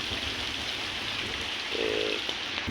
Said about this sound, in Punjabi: ਤੇ ਬਾਰਿਸ਼ ਹੋਈ ਐ ਸਵੇਰ ਸ਼ਾਮੀ